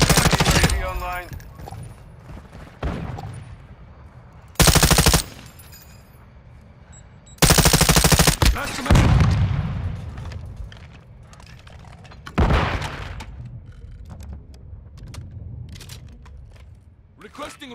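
Gunfire crackles through a Call of Duty: Modern Warfare II match, with loud close bursts and single heavy shots punching over a steady rattle of automatic fire, while radio-style voice callouts sound in between.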